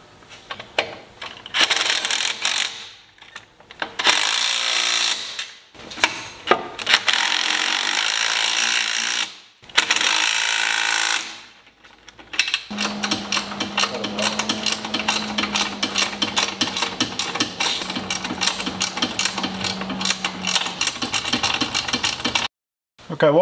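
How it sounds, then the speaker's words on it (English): Power drill boring a 9/32 hole for a grill mounting pad, loud grinding and chattering bursts separated by pauses, then a longer steady drilling run with a sustained whine, close and without talking. "you drill a 9/32 hole for the pad for the grill to sit down on"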